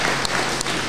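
Brief applause from an audience at a philosophy lecture on the value of philosophy in Haiti, a steady wash of clapping lasting about a second with no talk over it.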